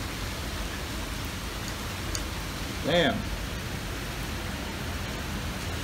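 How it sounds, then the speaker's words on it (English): Heavy rain pours down in an even, hissing roar that fills the whole stretch, with a man briefly exclaiming over it midway. "This is like really heavy rain."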